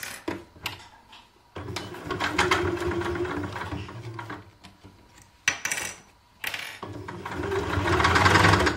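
Sewing machine running in bursts while stitching through thick layers of a bag, with a stop partway and a restart, loud and close with no talk.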